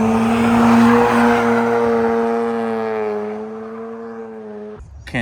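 A Mazda RX8 engine revs hard and steadily while the car drifts, a loud, sustained rotary howl with the pitch climbing and wavering for about five seconds before cutting off abruptly near the end.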